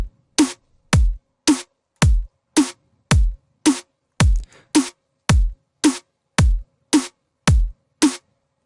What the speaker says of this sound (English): a kick hitting on every first and every second beat, on the first and every third beat, and a snare hitting on every second and every fourth beat